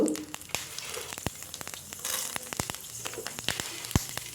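Cumin, fenugreek and coriander seeds fry in a spoonful of oil in a pan, giving a soft steady sizzle with sharp crackles and pops scattered throughout, close and fairly quiet.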